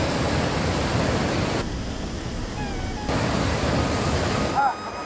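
Water at Jonha or Sita Falls near Ranchi rushes in a broad, constant roar, close and steady, with a brief high squeal near the end.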